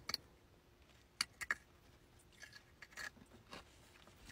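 Ice crunched between teeth, a few sharp crisp bites and crackles coming close and fairly quiet, spaced irregularly with no talk.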